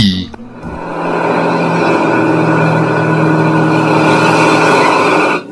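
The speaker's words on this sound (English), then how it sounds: "carry on playing the clip of Timothy Dalton's car chase" A car chase from a Timothy Dalton film: an engine roars and revs steadily at high speed with a brief skid-like onset, loud and close, cutting off abruptly.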